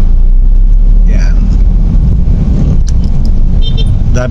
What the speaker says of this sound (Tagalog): Daming sasakyan pero umaandar naman.